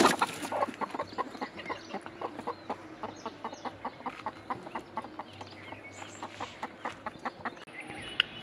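Chickens and young chicks cluck and peep in a steady stream of short, repeated calls around a farm tree, close and moderately loud, with no talking.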